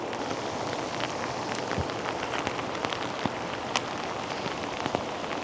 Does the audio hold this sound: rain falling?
yes